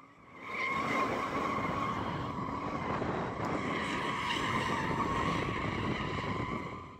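Tires screech in one long, loud, continuous squeal as a BMW M240i, Audi RS3 and AMG CLA 45 S drift, with engines roaring underneath, no talking.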